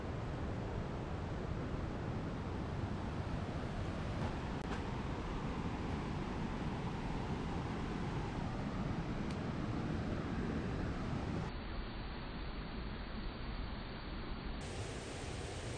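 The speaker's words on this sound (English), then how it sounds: "I found a small little waterfall." A small waterfall in a state park flows steadily, a constant broadband rush of water with no breaks or voices, fairly close and even in level throughout.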